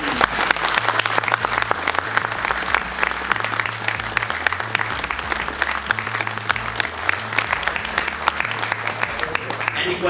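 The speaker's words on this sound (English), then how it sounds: "I would like to have an applause for that" An audience applauding the helpers at a pine bonsai styling demonstration, brisk crowded clapping that runs steadily for about ten seconds over a low rumbling background.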